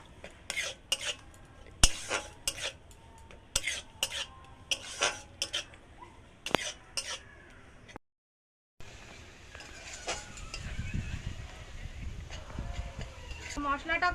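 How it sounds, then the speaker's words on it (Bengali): A spatula scrapes and clinks repeatedly against a pan while spice paste with chili powder and a little sugar is sautéed for chicken. After a brief pause, a steadier frying hiss carries on with occasional clatter. "দিল অল্প করে চিনি, দিয়ে ভালো করে কষিয়ে নেব।"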